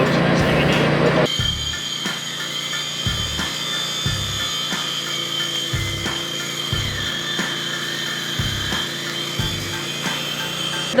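Steady buzzing and crackle of an arc welder runs throughout, close and continuous, broken by a regular series of low thumps as a beginner learns to weld on a farm.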